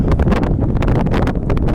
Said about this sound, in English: it white on the sea, so it's pretty windy